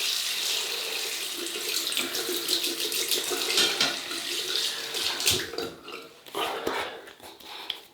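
Water runs from a tap into a sink while shaving with a Pearl razor, a steady close hiss that later turns uneven and splashy as something moves under the stream.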